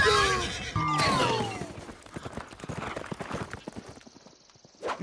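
Horse hooves clip-clopping in an irregular patter after a short burst of raised voices, fading toward the end.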